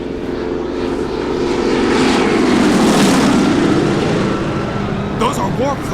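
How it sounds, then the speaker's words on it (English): Warplanes fly low over New York, their engines building into a loud, sustained roar that swells and peaks mid-pass before easing slightly, with brief voices at the end. "Snyder, what are warplanes doing over New York?"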